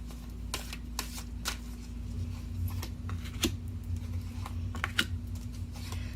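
Angel oracle cards being shuffled by hand, a quick run of soft papery riffles and light taps, close up over a steady low hum, no voices.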